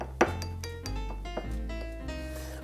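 Coconut rum cocktail being stirred in a glass for an Easter shooter, a few bright clinks of a spoon against glass over a steady low hum, close and fairly quiet.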